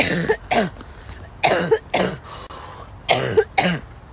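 Repeated harsh coughs come in three bursts of two or three each, close and loud, with short pauses between.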